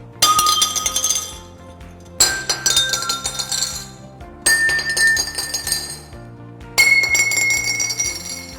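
Rods of different lengths are struck one after another, giving four bright metallic strikes that each ring out and fade before the next, with a clearly different pitch each time.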